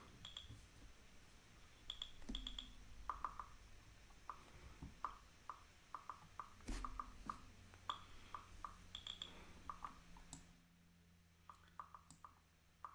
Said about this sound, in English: my mouse is pretty loud, eh?